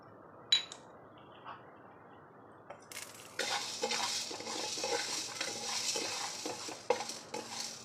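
Black peppercorns and cumin seeds dry-roasting in a pan for idli podi give a steady crackling sizzle, with stirring scrapes and light clinks of a spoon against the pan.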